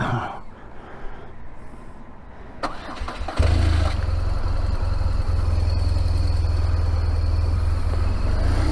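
A BMW GS motorcycle engine cranks briefly and catches, then settles into a loud, steady idle close by, with no talking.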